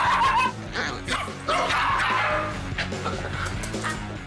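A dog known for snapping barks, yips and whimpers close up in a continuous, excited stream of loud, sharp calls.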